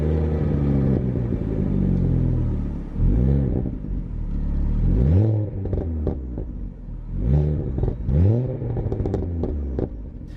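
A Ford Focus ST fitted with a Miltech exhaust rumbles while driving, its engine note rising and falling through several rev sweeps with a deep, throaty burble up close, and no talking.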